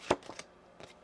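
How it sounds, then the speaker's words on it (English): Tarot cards being shuffled by hand in a quiet room, a few quick soft riffling snaps, one sharper than the rest, with nobody speaking. "One more shuffle here."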